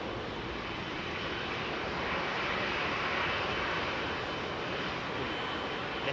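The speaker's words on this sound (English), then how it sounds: "KLM 737, 700, I think, coming out to play." KLM Boeing 737-700 jet airliner taxiing out at Heathrow, a steady broadband engine roar that swells slightly mid-clip, heard alone at moderate distance with no talk.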